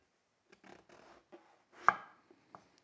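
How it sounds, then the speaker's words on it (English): A knife slices an eggplant on a cutting board. A few soft, close cuts are followed by one sharper thunk and a couple of lighter taps in a quiet room. "then you're just going to cut it into your slices"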